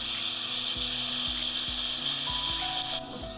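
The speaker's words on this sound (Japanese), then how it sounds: "野菜炒めみたいになってるね" Vegetables stir-frying in a pan, with pork and green onion added later, give a steady loud sizzle that runs throughout, broken by a few sharp clicking knocks, likely a utensil against the pan.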